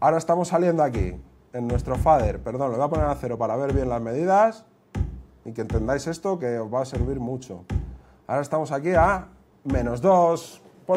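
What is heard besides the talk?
No everyday noise stands out behind the speech.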